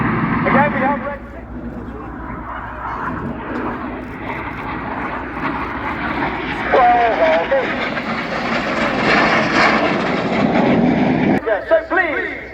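A Red Arrows RAF aerobatic team jet roars past at an air show, a loud sustained jet rush that swells and fades over several seconds while an announcer talks over the public address.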